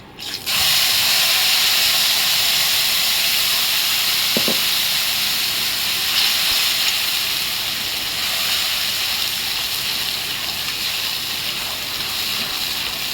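Onion, tomato, garlic and ginger paste dropped into hot oil, a loud, steady hiss of sizzling that starts abruptly and carries on evenly throughout.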